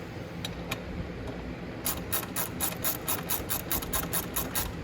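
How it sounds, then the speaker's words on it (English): A ratchet tightens a bolt while the chain is changed on a 1000 W electric ATV, producing a faint, evenly spaced series of small clicks over a quiet background. "So I'm just going to tighten that one in a tiny, tiny bit."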